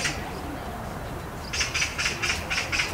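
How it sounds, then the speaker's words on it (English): Strange birds calling in a park garden, with a faint rumble at first and then a run of about six bright, evenly spaced chirping calls near the end. "There's some strange birds in the background,"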